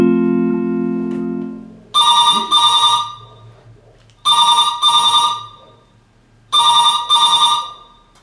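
A telephone bell rings loud and close in three double-ring bursts at steady intervals, after a short low steady tone at the start.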